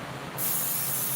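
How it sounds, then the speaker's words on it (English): Cooking spray hisses onto a baking pan in one sudden, loud, steady burst that starts partway through and holds to the end, close up with no talking. "Oh, I got to spray the pan."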